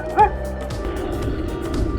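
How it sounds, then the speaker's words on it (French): A dog chasing a cyclist on a rural road in the Peruvian Andes gives one short, close bark near the start, followed by faint yips over wind and road noise. "Poursuite de chien, épisode 78."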